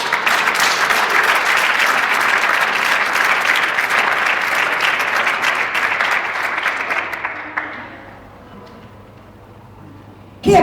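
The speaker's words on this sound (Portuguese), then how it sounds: "Você pode aplaudir o Senhor?" Church audience applauds for about seven and a half seconds, a dense, loud, even roar of clapping that then fades out, leaving near silence.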